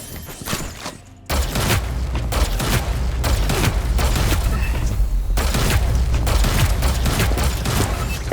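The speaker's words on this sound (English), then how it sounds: "This shoots bolts of plasma that explode on impact with anything, creating a small AoE." Plasma bolts from the Komodo launcher in the Hyper Scape video game burst on impact in a rapid, loud barrage of booming explosions after a brief lull at the start.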